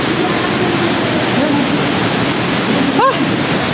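Steady rushing water flows through a cave, a continuous broadband wash with no break, and a brief faint chirp rises near the end.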